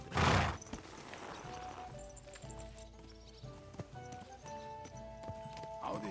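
Horse hooves clip-clop at an even walking pace in the video game Kingdom Come 2, with a loud burst at the start and a soft musical score underneath.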